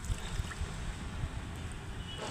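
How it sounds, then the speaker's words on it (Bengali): Rice and potatoes are washed in water in a pot beside an earthen clay stove, a continuous close sloshing and swishing with soft splashes, quiet and with no voices. "আমি এখন চাল আর আলুটা ধুয়ে নিচ্ছি"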